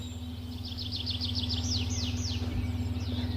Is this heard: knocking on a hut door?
no